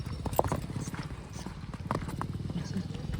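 A pony's hooves clip-clop in a quick, steady rhythm close by, with people talking over the hoofbeats throughout.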